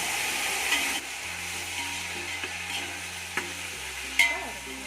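Mint and curry leaves frying in oil in a biryani pot, giving a steady close sizzle with occasional stirring scrapes and a low background hum, no talk.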